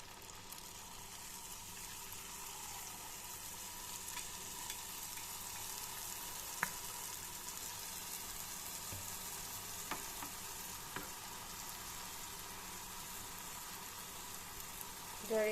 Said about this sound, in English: You have to fry it until it comes to golden brown or golden color.